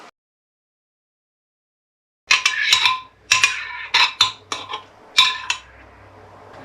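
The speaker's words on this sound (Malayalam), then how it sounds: "ഇനി ഒന്ന് ഇളക്കി കൊടുക്കാം" Metal utensil scraping and clinking against a pot of pumpkin soup in a series of short, fairly loud strokes after a moment of silence.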